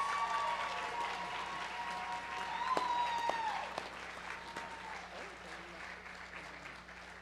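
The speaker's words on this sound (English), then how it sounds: "give one more round of applause to all of our English-speaking guests" Audience at an anime convention's opening ceremony applauds the guests, a faint, distant wash of clapping that swells and then fades, with a voice and some electronic tones over it.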